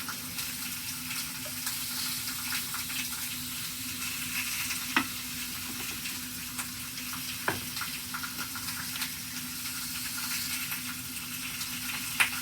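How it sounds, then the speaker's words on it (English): Butter sizzles in a hot skillet, a steady, faint frying hiss with a few soft clicks and taps scattered through it. "Put a little bit of butter in my skillet."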